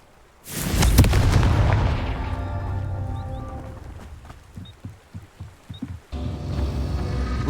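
A Confringo blast spell from Hogwarts Legacy erupts in a loud, booming explosion that rolls out and decays over several seconds, followed by scattered crackling debris and a renewed rumble near the end.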